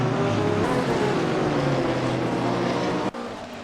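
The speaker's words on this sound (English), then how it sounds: "so I can hear the cars just fine" GT3 race cars in the Blancpain GT3 sim racing game at Misano World Circuit, a steady droning engine whine with shifting pitch as cars pass, ending in a sudden drop.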